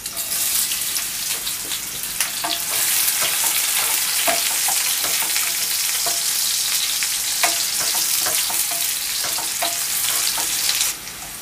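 Chopped onion, crushed garlic cloves and dried chilies fry in hot oil with a loud, steady sizzle, crackling pops and stirring scrapes running throughout, ending abruptly near the close.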